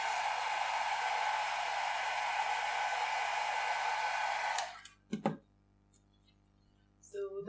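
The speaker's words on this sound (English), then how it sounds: "immediately hold your dryer to dry this" A hair dryer blows steadily and loudly for several seconds drying alcohol ink, then cuts off, followed by a few brief knocks and handling sounds in near silence.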